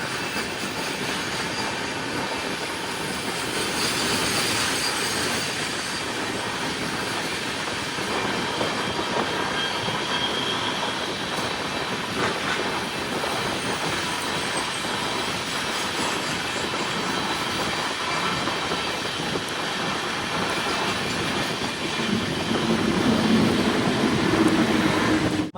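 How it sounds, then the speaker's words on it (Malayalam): From inside the Himsagar Express, a long steady roar of wheels and rushing air runs on without a break while the train overtakes a goods train loaded with coal, with no talk. "മറ്റൊരു ഗുഡ്സ് ട്രെയിനെ കൂടി ഇതാ ഇവിടുന്ന് ഓവർടേക്ക് ചെയ്യുകയാണ്"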